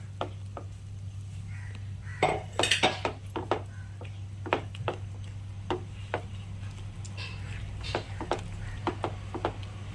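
A spoon clinks and taps against a bowl as ground bread crumbs are mixed into custard for a bread pudding, giving irregular scraping and knocking strokes, fairly close, over a steady low hum.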